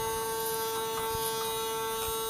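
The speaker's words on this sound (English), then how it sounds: "Use a shaver to shave a little bit like this." An electric shaver trims hair during a home haircut, giving a steady, close buzzing hum with a strong constant pitch and faint crackles as it cuts.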